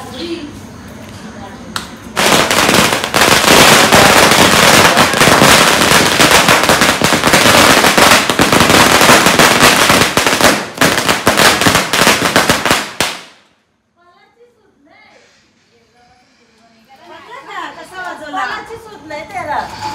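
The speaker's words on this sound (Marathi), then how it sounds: "इकडे मस्त पैकी फटाक्याची माल पसरवायला लावली" A long string of Diwali firecrackers bursts in rapid, loud crackling for about ten seconds, then stops abruptly; quiet voices follow.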